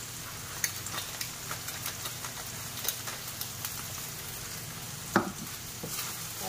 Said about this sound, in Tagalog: So, ngayon, halo-haloin na natin siya.